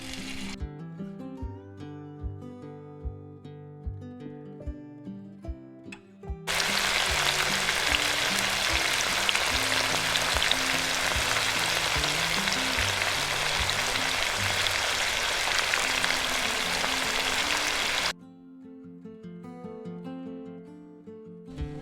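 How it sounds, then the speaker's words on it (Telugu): Chicken pieces hiss and sizzle as they fry in oil in a pan, a dense, steady crackle that starts abruptly, holds for about twelve seconds at even loudness, then cuts off, with background music before and after. "చికెన్ ఫ్రై చేసుకోవడానికి కొద్దిగా ఆయిల్ వేసుకుందాం."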